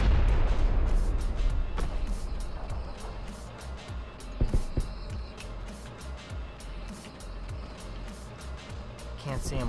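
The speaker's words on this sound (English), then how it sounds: "Just throwing grenade." PUBG combat with dense, rumbling booms and gunfire runs throughout, including a sharper blast near the middle, a grenade going off amid the fight while players talk over the noise.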